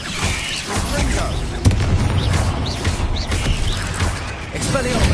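Explosive Confringo spell blasts in the Hogwarts Legacy video game, dense booming and crackling impacts amid continuous battle noise, with a sharp hit near the middle and spoken spell calls over the top.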